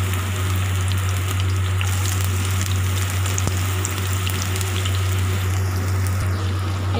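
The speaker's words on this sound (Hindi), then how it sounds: "ये पैन में हमने थोड़ा रिफाइंड डाला है तो इसमें हम अब जो है जो हमने लंबे प्याज काटे हैं उनको फ्राई करेंगे" Sliced long onions fry in refined oil in a pan for a vegetable biryani, giving a steady, even crackling sizzle over a low constant hum, with no talking.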